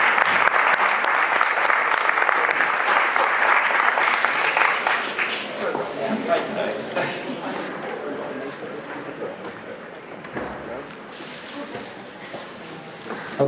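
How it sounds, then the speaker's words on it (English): An audience at a talent show applauds the Mayor and Mayoress, with loud, dense clapping at the start that thins and tapers over several seconds as voices begin to murmur. "Give them a big round of applause"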